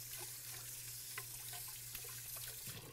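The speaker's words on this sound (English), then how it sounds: "now I'm going to wash my hands. Get a good wash going on." Tap water runs steadily into a kitchen sink while hands are washed beneath it, a close continuous splashing with small irregular changes as the hands move through the stream.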